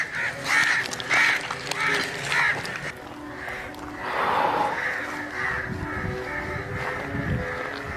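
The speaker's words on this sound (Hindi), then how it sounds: "क्या हुआ है अचानक से इतना हलचल क्यों मच गई है परिंदों में?" Agitated crows caw and squawk repeatedly nearby, loud overlapping calls with other birds mixed in, and a voice talks briefly.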